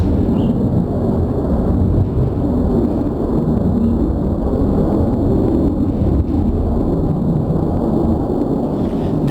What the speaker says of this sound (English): The noise from airplanes.